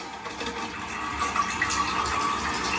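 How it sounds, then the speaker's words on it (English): A toilet tank refilling after its water supply line is turned back on during a tank-to-bowl gasket repair, a steady close rush and hiss of running water with no talk. "I'm going to turn the supply line back on."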